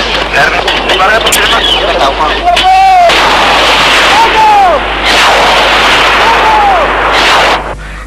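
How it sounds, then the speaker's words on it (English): Artillery and machine gun fire roar in a battle on an open field, loud dense blasts and rattling under continuous narration, with whistling shell sounds sweeping through. "Nigerian artillery and machine gun fire decimate the attacking Biafran commandos"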